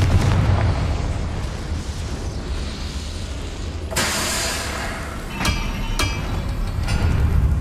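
Confringo fire spells explode in Hogwarts Legacy, with a sharp blast followed by two more quick bursts and a rumbling battle background throughout.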